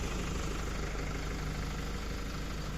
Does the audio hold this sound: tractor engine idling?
yes